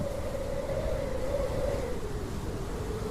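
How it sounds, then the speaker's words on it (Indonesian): A bus engine idles at night with a quiet, steady hum that holds level throughout, carrying a faint tonal drone with no other sounds on top. "Hanya dengung mesin yang pelan mengisi kabin."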